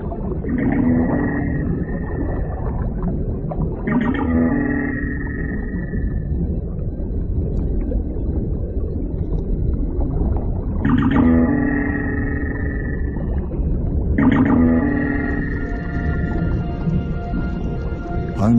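Strange mechanical dwarf minke whale calls repeat in bursts on a reef, each a rough, buzzing pulse with a twangy, echoing tone, spaced several seconds apart underwater.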